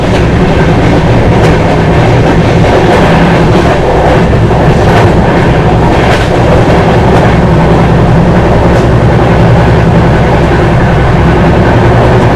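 The Tamil Nadu Express train running on rails, a loud continuous rumble with rhythmic clickety-clack of the wheels over rail joints, steady throughout.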